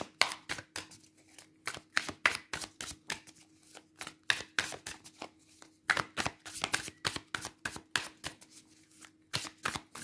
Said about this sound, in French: Je prends un petit temps pour mélanger les cartes